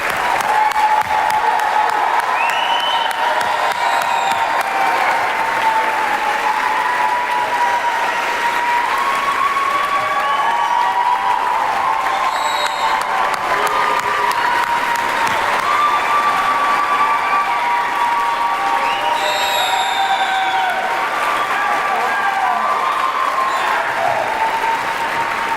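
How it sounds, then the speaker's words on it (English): A commencement crowd applauds the graduating class of a high school. The clapping is loud, dense and continuous, with scattered cheers and whistles rising above it throughout. "Let's have one last round of applause for our graduates."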